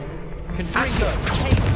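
A Confringo blasting spell goes off in the Hogwarts Legacy video game, a dense, roaring burst of fiery noise that swells and holds for nearly two seconds with a thump near the end, while a voice talks over it.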